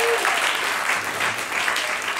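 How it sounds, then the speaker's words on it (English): Audience applause for two candidates at a student society election question time, a dense burst of clapping from a nearby crowd that fills the short stretch at a steady level. "Let's get another round of applause for the two candidates for this position."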